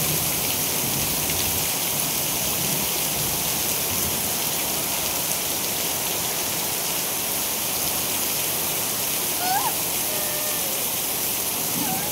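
Heavy rain falls in a dense, constant hiss on surfaces, steady throughout with no pauses.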